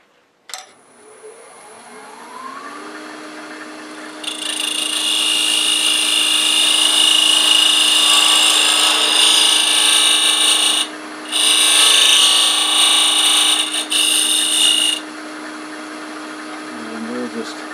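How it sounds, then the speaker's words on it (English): A lathe spins up under a steady motor whine while a box scraper cuts into a turning wooden hot air balloon ornament to thin its walls, adding a loud, harsh hiss. The cutting drops out briefly twice before the motor runs on. "Now I'm going to thin this down just a bit. Get the walls a bit thinner. And I'll do that using this box scraper."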